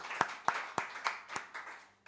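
A church congregation claps seven or eight times in a slow, even rhythm, each clap sharp and close.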